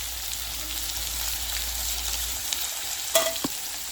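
Potatoes and kohlrabi fry in a pan with a steady soft sizzle, and near the end come a couple of sharp clinks as the pieces are stirred. The sound is close, with no speech.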